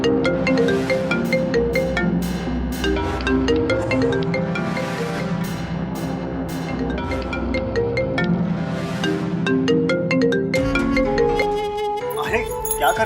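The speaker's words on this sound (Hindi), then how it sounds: "अरे वो फोन रिंग हो रहा था ना, मेरी फ्रेंड का फोन है" A melodic phone ringtone plays steadily, its electronic tune repeating with bright tonal notes and beats, loud and continuous.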